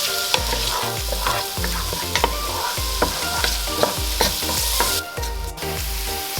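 Onions sizzle and fry in a pan while a utensil stirs them in repeated scraping strokes, steady frying hiss underneath with no talking.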